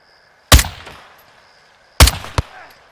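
Sniper rifles fire in Call of Duty Modern Warfare II: two loud, sharp reports about a second and a half apart. Each rings out in a decaying echo, and a short metallic click follows the second shot.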